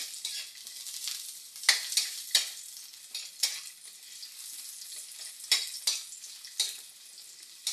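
Ginger and garlic sautéing over medium heat in a pan for a meatless egg curry, a steady soft sizzle broken by repeated sharp scrapes and clinks of a utensil stirring, with no talking.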